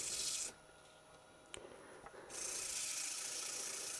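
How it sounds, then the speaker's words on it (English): Coarse sandpaper rasps against a wet cypress wood bowl in a rough sanding pass, a steady scratchy rubbing that stops briefly mid-clip and then resumes, loud and close. "But we certainly can do a rough sanding to get rid of"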